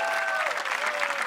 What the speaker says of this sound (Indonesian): tepuk tangan dong buat Mas Taya.